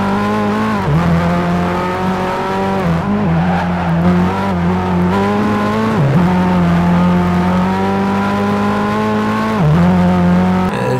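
Race car engine in a racing video game held at full throttle down a straight, a loud continuous high-pitched drone with brief dips where the pitch drops for gear shifts before climbing again.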